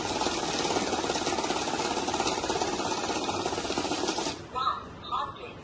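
A cash counting machine riffles through a bundle of banknotes with a dense, steady whirring flutter for about four seconds, then stops abruptly, leaving a couple of faint clicks.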